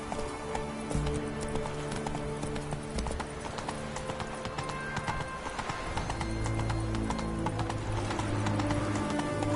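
Roach the horse gallops in The Witcher 3, steady rapid hoofbeats clip-clopping throughout with game music and ambience layered underneath.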